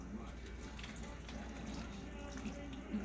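Yeast and water being poured into a well of flour with two beaten eggs for yeast rolls, a soft steady trickle of liquid heard close up in a quiet kitchen.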